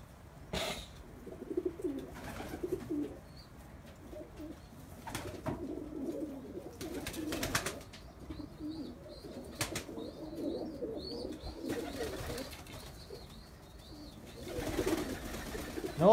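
Pigeons in a coop coo softly and steadily throughout, with occasional wing flutters and bird calls in a quiet, close-up setting.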